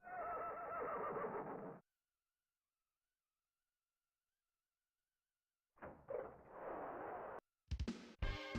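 A horse neighs and whinnies in a retro video game, then silence follows before a second burst of whinnying and sharp clattering effects near the end.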